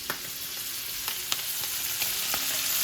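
Scallops sear over medium-high heat in a cast iron pan, a steady bright sizzle with a few sharp ticks and pops, close and continuous.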